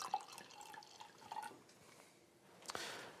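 2018 Chardonnay poured generously into a wine glass makes a soft trickling, dripping liquid sound, quiet and close, ending in a brief splashy burst.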